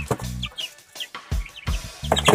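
Three-week-old chicks giving short, close chirps and clucks in quick bursts, loud in places.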